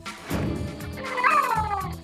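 A cat in a bathroom lets out a long, insistent, wailing meow with a rising, talk-like inflection, close and loud, with no human voices.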